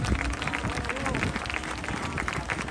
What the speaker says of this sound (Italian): e a Luca Bertossio gli applausi del pubblico di Festival Aero 2022.